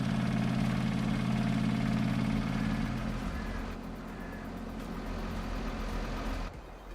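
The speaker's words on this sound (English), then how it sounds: "I was about to say the engine sounds nice." Vehicle engine idling in the Farming Simulator 22 video game, a steady low hum that drops off about halfway through, quiet, with faint background sounds and no clear talk.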